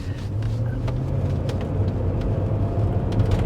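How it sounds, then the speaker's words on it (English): Car engine revving as the driver presses the throttle while turning a corner, a steady loud low rumble with engine drone throughout, no voices. "I'm going to kind of hit the throttle on her real quick"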